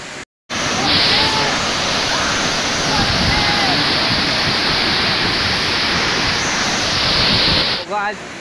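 Kundo Champawati waterfall in Nagaon pours in a loud, steady roar of rushing water close by, a constant dense wash that briefly drops out at the start, with faint voices barely audible beneath it.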